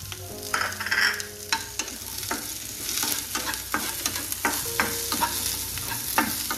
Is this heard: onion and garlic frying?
yes